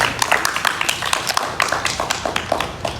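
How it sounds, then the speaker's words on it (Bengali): Scattered hand claps from a small group applauding a contestant at a tire-throwing prize game, quick uneven claps close by with little talk. "এক্সিলেন্ট রিহান যেন একটা হাততালি হয়ে যাক"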